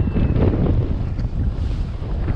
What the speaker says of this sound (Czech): fouká proti nám. Východ, jihovýchod.